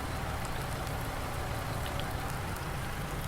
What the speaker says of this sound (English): Not ideal to do this in the rain